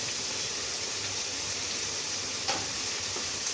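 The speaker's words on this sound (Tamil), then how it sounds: "தக்காளி வெந்துக்கின்னு இருக்குது." Tomatoes simmer and sizzle in a pan for an egg curry, a steady soft frying hiss with faint bubbling throughout, one small clink near the end, no voices.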